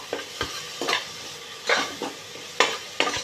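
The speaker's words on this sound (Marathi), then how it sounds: "हे टोमॅटो आपल्याला छान ह्या बटरमध्ये आणि पावभाजी मसाल्यामध्ये परतून घ्यायचे" Tomatoes sautéing in butter with pav bhaji masala, a spoon scraping and stirring the pan in repeated strokes over a steady close sizzle, no talking.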